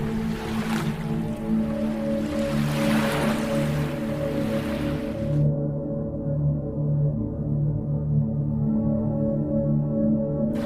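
Ocean waves wash onto a sea shore in soft, rolling swells under steady droning music, the surf fading out midway while the music continues alone.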